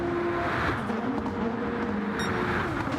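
Porsche GT3 race cars on medium tyres run close together in a sim racing game, a steady engine drone and tyre noise holding throughout at an even level.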